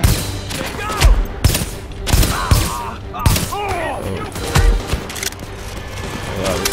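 Gunfire from a gun in the video game The Division: loud, sharp bursts of shots repeating in uneven clusters, with rattling automatic fire and echoing tails, some faint talk underneath.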